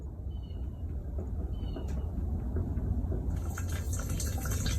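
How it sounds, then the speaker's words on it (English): Gasoline draining from the fuel line of a Harley-Davidson EVO motorcycle, a steady close pouring and splashing stream that runs without a break from start to finish. "Now that's about how the fuel should be draining out."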